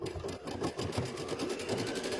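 A sewing machine runs a continuous satin stitch for an Easter bunny coaster, its steady mechanical whir holding even and fairly loud throughout with no talk.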